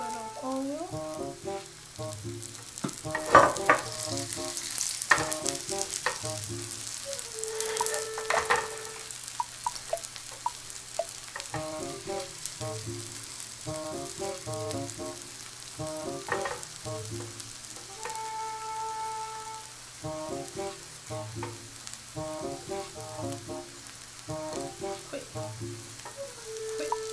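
Mashed potato fries in hot oil with a steady, close sizzle running throughout, broken by repeated rhythmic tapping and stirring sounds and an occasional brief higher tone.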